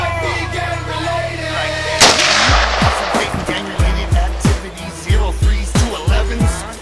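AK rifle shots fired outdoors by a group, a loud burst starting after a couple of seconds, then a steady rhythm of about ten sharp, booming single shots, each with a short echo tail.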